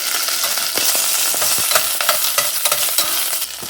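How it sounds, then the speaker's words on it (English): Chicken gizzards dropped into hot vegetable oil in a pan, a loud close crackling sizzle with bursts of popping and spatter that ease off slightly toward the end. "Put in the gizzards. Turn down the heat."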